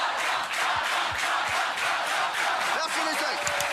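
A crowd roars its acclaim for the organiser of the Games as he rises to receive the applause, a dense, steady wash of cheering and clapping throughout.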